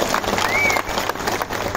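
Crowd applause at a political rally for Chief Minister Shinde in Diva, dense continuous clapping from a large gathering, with a brief whistle rising above the wash of hands.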